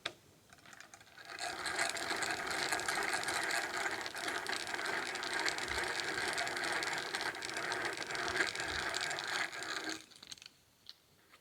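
A Millers Falls No. 5 hand drill bores a wide hole with a gouge-style bit, giving a steady close whirring gear chatter for about eight seconds before it stops abruptly, with a few faint handling clicks after.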